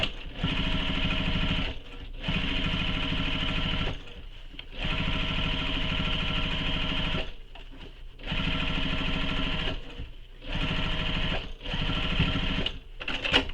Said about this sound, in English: Now I'm going to go back and stitch right over, or right again, the second row of stitching